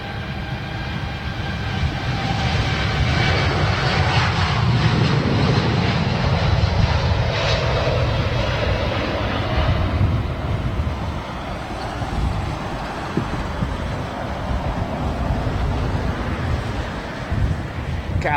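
An Airbus A350 airliner taking off at Heathrow, a steady loud jet roar with a broad rumble that holds for the whole span, shifting slightly in tone as it climbs away.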